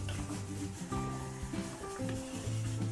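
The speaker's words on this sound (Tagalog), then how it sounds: "Haluin lang po natin." Vegetables, including potatoes and carrots, are stirred in a hot frying pan, with steady sizzling and scraping clatters running throughout, fairly loud and close, with no talking.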